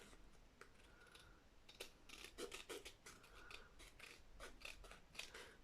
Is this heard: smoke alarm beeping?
no